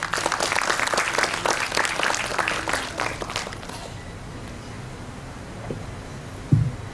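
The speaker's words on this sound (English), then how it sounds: "Can I have a huge round of applause for both of them?" A crowd at a school Independence Day celebration in India applauds steadily for several seconds, then the clapping dies away abruptly, leaving quiet room tone with a faint knock or two near the end.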